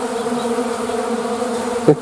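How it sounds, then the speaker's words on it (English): Bees buzz steadily and closely around chicken corn in spring, a continuous droning hum, with one brief louder bump near the end. "these bees have found the corn for the chickens"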